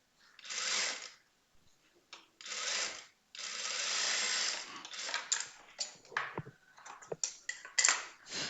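A sewing machine stitches a small child's skirt in several bursts of whirring, the early runs long and steady, the later ones short stop-start spurts with handling noise between, close by and without talk.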